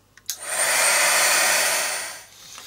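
A handheld hair dryer blowing on paint on a mixed media art journal page: a click, then a steady loud whooshing hiss for about two seconds before it winds down and stops.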